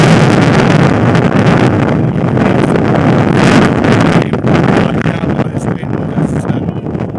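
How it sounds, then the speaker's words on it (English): Heavy wind buffeting the microphone at a Coventry United versus Desborough Town football match, a loud continuous roar with gusting swells throughout, with faint talk underneath. "Rather bad, this wind."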